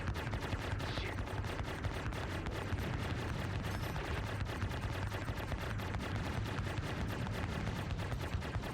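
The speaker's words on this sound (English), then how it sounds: "this one's actually shooting at us." Spaceship weapons fire steadily in a Star Citizen space battle between a Constellation and a Corsair, a dense, continuous rapid-fire rattle with rumbling low booms throughout and no pauses.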